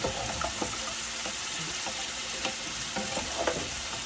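Lamb pieces and onions stirred in a pot, making a steady sizzling hiss with frequent scraping clicks and knocks of a spoon against the metal.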